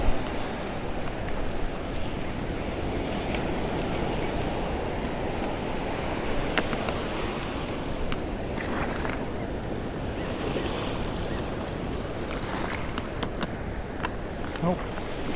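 Ocean waves wash steadily along the water line of a Southern California beach, a constant close surf rush mixed with wind buffeting the microphone.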